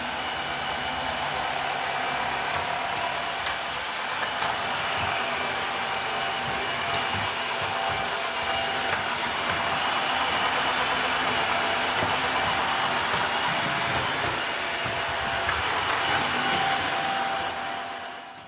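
A Dreametech H11 Max wet/dry vacuum runs steadily while cleaning a floor, a loud, continuous broadband whir with a high motor whine that holds nearly unchanged for about eighteen seconds before tapering at the end.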